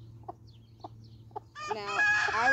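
An American Bresse hen gives three soft, spaced clucks while being handled, then breaks into a loud, drawn-out, agitated squawking cackle.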